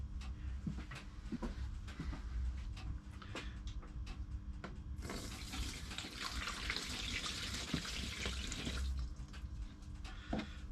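Water gushes from a tap into a measuring jug in a camper van, a steady hiss swelling louder midway for a few seconds amid small clinks and knocks.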